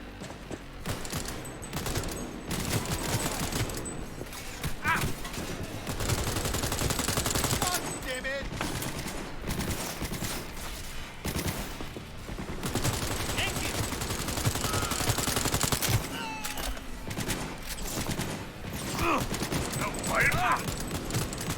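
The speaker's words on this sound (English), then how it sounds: "Yeah, someone's shooting at me." Enemy gunfire in the video game Cyberpunk 2077: sustained bursts of automatic shots and scattered single cracks in a dense, continuous firefight, with occasional voices among the shooting.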